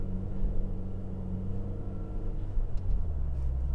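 A 2016 Scion tC 10.0 RS with a six-speed, driven hard on snow, gives a steady low engine drone and rumble from inside the cabin, rising slightly toward the end, with no talk over it.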